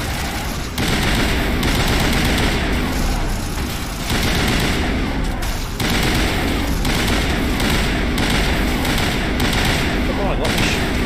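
Sustained, loud video-game gunfire with machine-gun bursts and heavy shots crackling almost nonstop, dense and close throughout with a brief break near the start.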